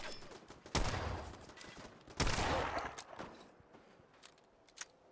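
Automated turrets firing in Fallout 4, two loud bursts of gunfire with a long decaying tail, followed by scattered faint shots and clicks.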